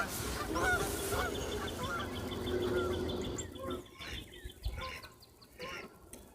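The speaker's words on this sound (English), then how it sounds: "Did you hear those beautiful geese as they flew by?" Geese honk as they fly overhead outdoors, a string of repeated calls at moderate distance over steady background noise.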